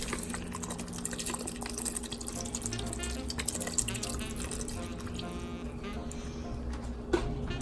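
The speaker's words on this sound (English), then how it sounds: "Add our beef broth. This is nice beef bone broth." Beef bone broth pours into an Instant Pot as a soft, continuous trickle with faint splashing and dripping, heard close and fairly quiet, ending in a small clunk.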